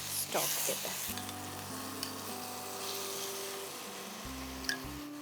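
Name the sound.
mutton masala sizzling and being stirred with stock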